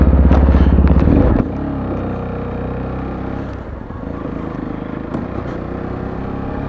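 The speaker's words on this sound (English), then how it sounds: "off for a ride on a Sinnis Terain." A Sinnis Terrain 125cc motorcycle with recent running issues: a loud, buzzing single-cylinder engine note at the start, settling into a steady droning hum with rattly clatter and wind as it rides along.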